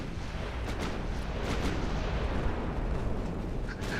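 Battleship main guns fire in Ultimate Admiral Dreadnoughts as deep, rumbling booms over a continuous heavy roar, with a few sharper reports standing out, loud and without voices.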